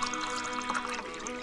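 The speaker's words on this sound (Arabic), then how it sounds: "وملأته ماء" Water poured into a new jug as a cartoon sound effect, a steady close bright splashing stream with no pauses and no voices.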